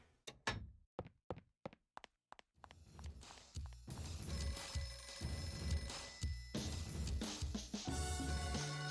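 Telephone ringing in the PS2 video game Flower, Sun, and Rain, set in a hotel, mixed with game sound: a run of quick thuds, then a dense, continuous layer of music and ringing tones.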